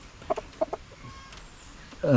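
A few short clucks from Kadaknath and native country chickens on a farm, then a louder drawn-out fowl call near the end, with quiet background in between.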